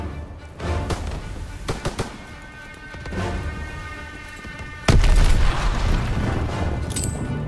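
Gunfire cracks sound in a Call of Duty WWII battle on the Rhine, then a heavy grenade blast booms about two-thirds through. Rumbling and scattered shots follow afterward.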